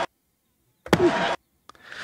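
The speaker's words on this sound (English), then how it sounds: "I wanted the hit. I wanted the attack of that slap." Will Smith's slap sample plays back: a sharp slap-like hit with a short noisy tail, surrounded by brief bursts of sound and near silence.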